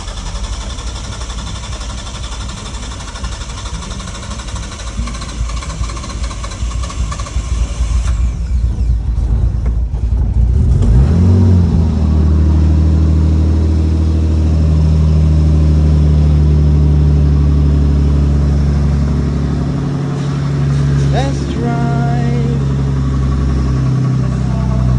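A Nissan R33 Skyline engine catches after a push start: rolling road and mechanical noise give way to a loud, close, steady idle rumble that runs on with a brief rev near the end.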